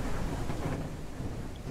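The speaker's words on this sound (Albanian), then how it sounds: "që tash ja filloj shiu" Rain and thunder begin in the Ranch Simulator video game as a steady, dense wash of rain noise with a low rumbling undertone, continuous and fairly faint throughout.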